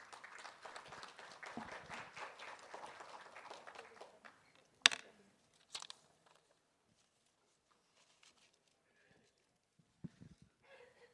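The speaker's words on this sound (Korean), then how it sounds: "여러분 큰 박수로 환영해 주십시오." Audience applause at a forum session, a few seconds of steady crowd clapping from a moderate distance that tapers off, followed by near silence broken by a couple of faint thumps and rustles.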